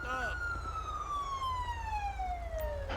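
A police car siren in GTA 5 wails in one long, loud descending sweep that lingers close over engine rumble, the start of a new cycle just audible at the edges.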